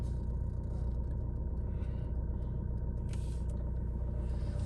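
A motorcycle engine rumbles at a water crossing on a mountain route to Chandratal in Spiti as the stuck bike is pushed through, a dense continuous low drone that stays steady and loud throughout with no voices.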